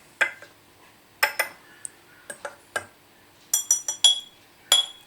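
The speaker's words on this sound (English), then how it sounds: "Just going to give them a little stir to distribute that" Small glass jars of lavender balm with oil being stirred, giving light, irregular clinks and ticks of a utensil against glass, close and fairly quiet, with short pauses between taps.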